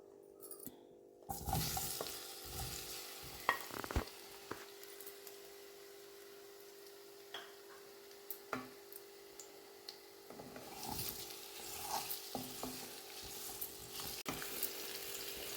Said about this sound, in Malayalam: ഈ പഴമെല്ലാം നന്നായിട്ടൊന്ന് വെന്തുടയുന്നത് വരെ നമുക്കൊന്ന് ഇളക്കി കൊടുക്കാം